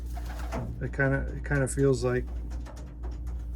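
Pigeons coo in a breeding loft, several close, rounded repeated coos in quick succession while someone speaks over a low steady hum.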